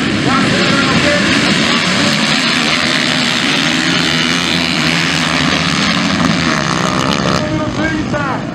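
VX4 racing motorcycle engines at full throttle in a Copa Conesul 2023 race at Eldorado: a loud, continuous, buzzing roar that holds steady throughout, with a commentator's voice running beneath it.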